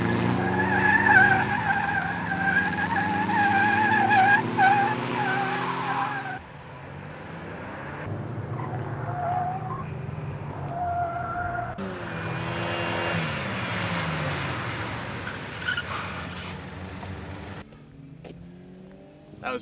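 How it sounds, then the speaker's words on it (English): A car on a skid-control track at a racing school slides with loud, sustained tire squeals and engine revving in several bursts, separated by brief quieter gaps between runs. "learn to control the car in very adverse situations, such as front wheel or rear wheel skids."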